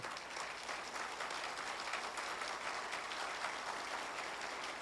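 Audience applause at the Harshotsav 2017 event of the LIAA Nagpur Division, a steady, dense clapping that runs unbroken and fairly loud for the full length, with no voices over it.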